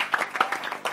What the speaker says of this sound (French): Applaudissements pour le capitaine.